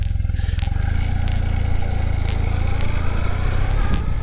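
Motorcycle ridden along a road, heard from the rider's position as a loud, steady, pulsing engine throb with wind rush and faint rattling, no talking.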